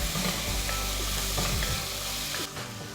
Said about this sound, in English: I'm going to give this another stir.